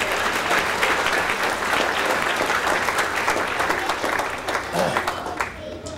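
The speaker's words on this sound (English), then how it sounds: "Give them a round of applause here." Wedding guests applauding the wedding party during a reception speech: loud, dense, sustained clapping from a crowd that gradually thins toward the end.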